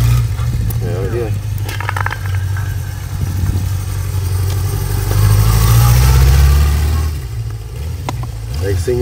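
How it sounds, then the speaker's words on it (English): A restored 1978 Honda CB550K Four motorcycle idles close by with a steady low rumble that swells briefly in the middle, while people talk over it. "This is a fantastic motorcycle. Classic 1978 CB550K."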